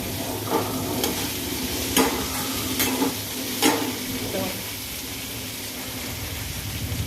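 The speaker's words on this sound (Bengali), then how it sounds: "কড়াই বসিয়েছি ফুলকপি ভাজা" Cauliflower fries in oil in a wok with a loud, steady sizzle, punctuated by a few sharp spatula scrapes and stirs early on, heard up close with no talking.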